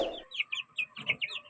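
A chicken clucks in a quick series of short, bright calls, close by, after a brief rustling noise at the start.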